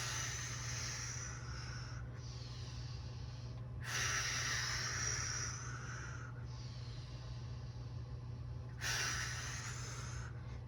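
Exhaled breaths during a three-position bear core exercise, several forceful breathy puffs over a steady low background hum, with no talking.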